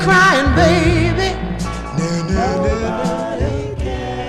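A 1965 soul record plays at moderate level, with a sliding lead vocal over a full band arrangement.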